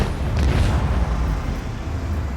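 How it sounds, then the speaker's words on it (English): Macro cannons firing in the space combat video game Warhammer 40K: Rogue Trader, deep rumbling booms with a brief hissing burst near the start, then a sustained low roll. "Macro cannons."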